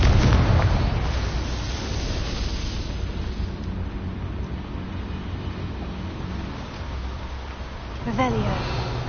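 A Confringo explosion spell cast in a PS4 game, a loud burst at the start that fades into a low rumbling tail, with a second smaller blast near the end.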